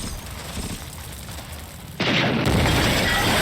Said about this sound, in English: We're blowing the bridge!